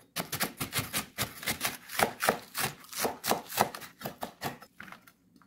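A knife slices Korean green onion (daepa) on a cutting board at a diagonal, about two dozen quick, evenly spaced chopping taps, close and clear with no talk.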